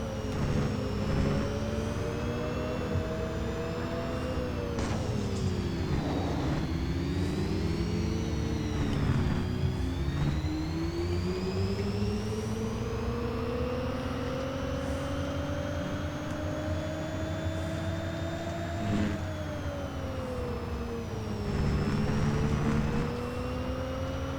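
A Jaguar race car in a racing video game drives over curbs, its engine tone rising and falling in long sweeping pitch changes with a steady whirring drone throughout, at moderate, even loudness.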